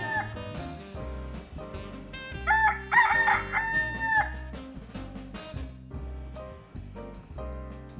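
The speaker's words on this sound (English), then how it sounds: "A rooster is heard crowing intermittently throughout the scene." In a stage production of August Wilson's Seven Guitars, a rooster crows once over loud music playing nearby, its call rising briefly above the steady beat and melody.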